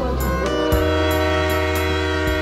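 A train heard loud and close, a steady rumbling drone with sustained horn-like tones and regular rhythmic knocks from the wheels on the rails, in a Tamil music video.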